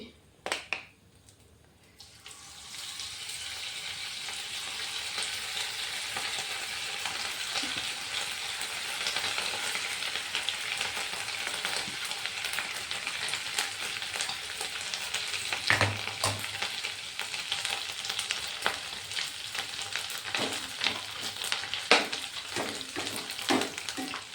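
Potato bhujia dropped into hot oil for deep-frying: after a quiet start, a strong continuous bubbling sizzle rises and holds steady, with occasional clinks and stirring scrapes.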